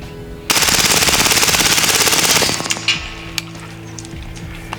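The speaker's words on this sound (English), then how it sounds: "an actual dust cloud generated by fully automatic fire" A Hatsan Blitz .30 calibre air rifle fires a fully automatic burst of rapid, evenly spaced shots lasting about two seconds. Several scattered metallic pings from distant target hits follow, then quiet outdoor ambience.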